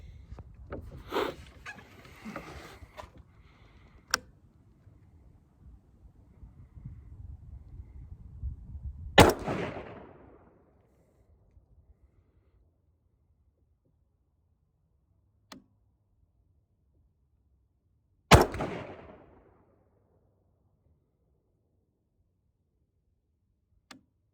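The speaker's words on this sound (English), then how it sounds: "So that's the gun, and let's do some shooting." AR-10 style rifle fired outdoors, two loud sharp gunshots about nine seconds apart, each with a short ringing tail, amid quiet ambience and some earlier handling noise.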